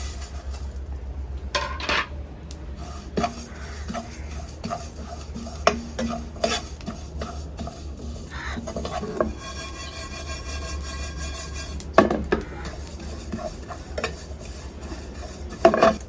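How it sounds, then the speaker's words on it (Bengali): Dry whole spices stirred and fried in a pan for a tangy raw mango pickle, with a steady scrape of spoon against metal, occasional sharper clinks and a faint sizzle beneath. "এখন বাকি মশলাগুলো ভেজে নেব।"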